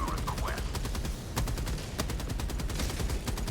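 Rapid automatic gunfire from the Vulcain weapon in Helldivers 2, a dense, continuous burst of loud shots with a few heavier impacts mixed in.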